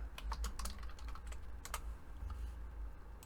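Fingers type on a computer keyboard while entering a node name in Unreal Engine 5: a quick, uneven burst of close, crisp key clicks that thins out toward the end, with no voices.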